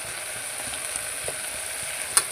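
Broad beans fry with turmeric in a pan, a soft steady hiss and faint crackle, close, with a small clink near the end.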